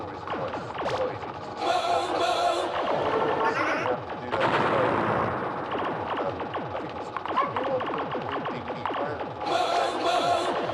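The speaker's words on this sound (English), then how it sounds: "they're firing now, so I have to be careful." Dense rapid gunfire-like bursts from enemies shooting in the Xbox video game Space Giraffe, with crackling electronic effects and louder flurries at intervals over a continuous busy game soundscape.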